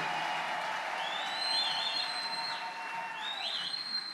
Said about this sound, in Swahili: Shangilia kwa makofi na vigelegele